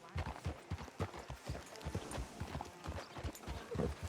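Horse hooves clip-clop steadily in Red Dead Redemption 2, a rhythmic, fairly quiet trot close by, with faint voices in the background.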